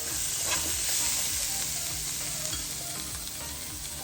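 Prawn roast masala sizzles steadily in a pan over a low flame, a continuous close hiss with soft scraping stirs underneath and no talking.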